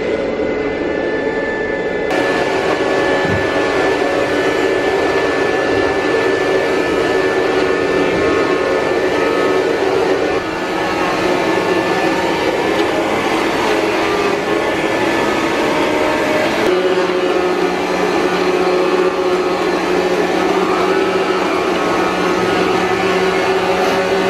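A Rainbow vacuum cleaner sucks dust from curtains in a condo, giving a loud, steady whirring roar that runs continuously with a slight shift in pitch partway through.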